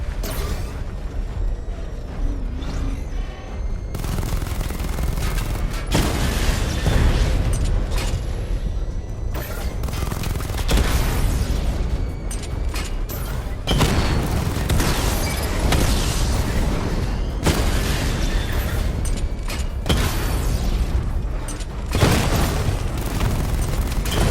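Missile barrage explosions in the Batman Arkham Knight video game, a string of deep booms and blasts with crackling bursts rolling across the whole stretch, loud and dense.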